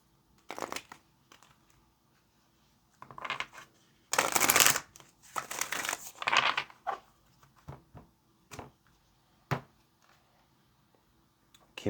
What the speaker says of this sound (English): Let's get one last shuffle.